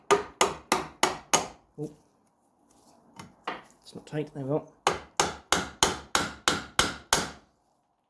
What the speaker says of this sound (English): I'm just tapping it with a hammer to rough that edge over a bit, just so the rivet definitely can't come back through